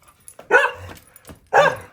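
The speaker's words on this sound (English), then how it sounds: "No, don't bark. Your bark is piercing." A dog barks twice outdoors, two sharp close barks about a second apart with a short yip and soft whimpering noises in between.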